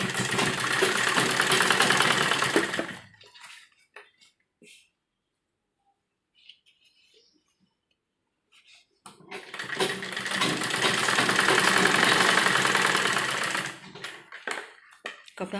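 A sewing machine stitches fabric with elastic in a long steady motor whir, stops for several seconds of near silence, then starts again and runs at the same even, close, fairly loud pace.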